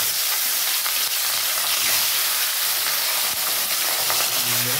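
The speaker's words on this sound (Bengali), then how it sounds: "মাছ ভেজে নেবো বন্ধুরা" Salt-and-turmeric-rubbed river satin fish fry in hot oil, a loud, dense, continuous sizzle with crackling spatter close up, no voices.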